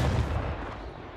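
A tank gun fires in battle with a single heavy boom that opens loud and low, then rolls off into a fading rumble over about a second.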